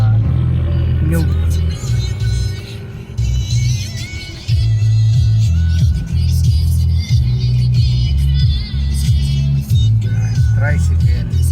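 A motor tricycle travels along a curvy mountain road in Sorsogon, its engine a loud, steady low rumble close by with brief dips and surges, while people talk over it.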